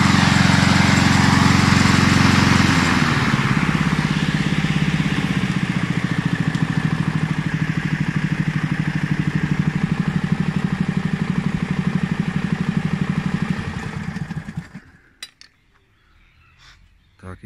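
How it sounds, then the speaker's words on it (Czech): A repaired lawn mower engine runs close and loud with a steady, even idle, then shuts off near the end, leaving a few light clicks and near silence. "Jistě jste si všimli, že tahle ta sekačka jde opravdu krásně."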